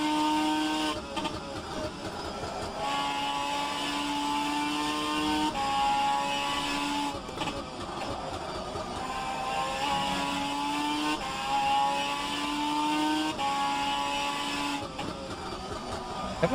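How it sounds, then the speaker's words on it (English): A Nissan GT-R GT500 race car in the rFactor 2 racing game revs and shifts repeatedly, its engine note climbing in tone then dropping at each gear change, steady and moderately loud throughout. "Walrus, this is the Nissan GTR 500. GTR GT 500 actually"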